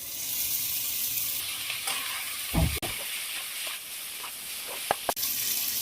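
Fried eggplant pieces are tipped into a pan of spices and stirred, giving a steady close sizzle with a few sharp utensil clinks against the pan.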